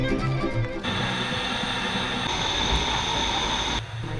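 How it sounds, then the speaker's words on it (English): A steady rumbling wood-fired steam train in Romania rolls along with mechanical clatter and a constant hum, heard from on board at fairly close range. "It's a wood-fired steam engine."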